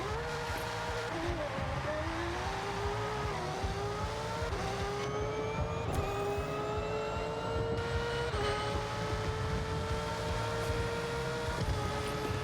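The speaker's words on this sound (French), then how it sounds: "Oh, ce son de moteur par contre." A Honda CR-X engine in Forza Horizon 6 revs and climbs through repeated gear changes, its tone rising and dropping in a steady, moderately loud drone with no talking.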